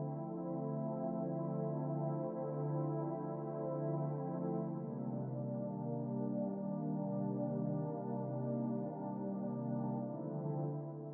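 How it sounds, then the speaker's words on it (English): A soft warm pad preset on a Korg Triton holds smooth sustained chords, a mellow continuous tone with a gentle chord change midway, alone and steady. "So the soft pad sounds like this."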